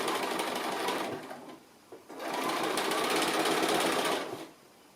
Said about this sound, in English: So remember, we were sewing with that edge up near the teeth and sewing approximately